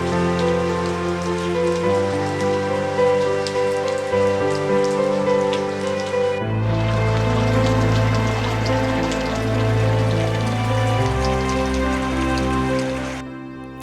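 Heavy tropical rain pours steadily onto surfaces at an overwater bungalow on Huahine, a dense continuous patter with no voices, its texture shifting partway through as the downpour grows fuller and deeper.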